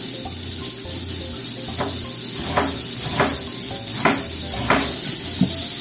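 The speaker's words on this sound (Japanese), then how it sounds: "人参を炒めている間にね、 炒めて柔らかくしている間に" Carrots stir-fried in a pan, a steady close sizzle punctuated by a regular series of about six scraping stirs roughly every half second to second.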